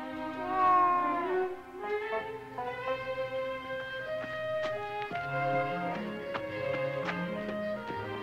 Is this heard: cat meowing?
yes